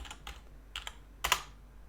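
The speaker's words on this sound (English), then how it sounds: "we can just type like this" A few quick, light keystrokes on a computer keyboard, clicking in small clustered taps with short pauses between them, close and fairly quiet with no talking.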